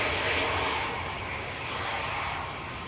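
Aer Lingus Regional airliner arriving at Manchester Airport, a broad steady engine roar heard from a distance, swelling slightly and then easing without any break.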